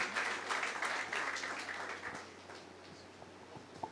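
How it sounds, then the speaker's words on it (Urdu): A church congregation applauds after a sermon on the Book of Acts, clapping loud at first, then thinning and fading into a few scattered claps. "زوردار تالیاں جائیں"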